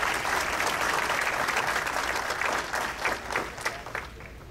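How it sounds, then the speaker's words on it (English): Audience applause fills a corporate speaking event, a steady wash of many hands clapping that holds strong and then thins slightly toward the end, with no voices over it. "So please give yourself a round of applause for doing that well."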